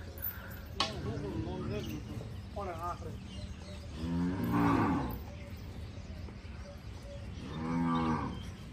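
Cattle low repeatedly nearby, several drawn-out moos spaced a few seconds apart with murmured voices and farmyard noise between them.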